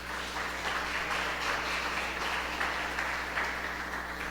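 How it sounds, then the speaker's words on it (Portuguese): A church congregation applauds with sustained, dense clapping over a low steady hum, even and continuous throughout. "Palmas para o Senhor Jesus"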